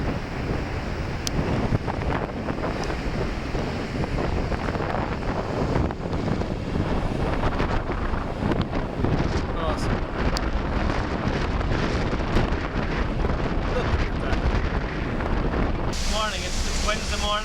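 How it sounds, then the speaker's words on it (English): Strong wind buffets the microphone by the sea in Gibraltar, a continuous loud rumbling roar with gusty surges and crashing surf underneath. "we've got another windy day"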